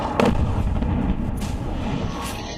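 Iranian ballistic missiles strike Israel, and a dense, continuous rumble of distant blasts and crackling fills the air. Sharp reports rise faintly above the steady roar.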